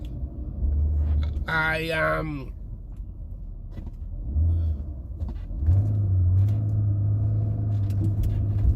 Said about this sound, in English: oh, that car just interrupted me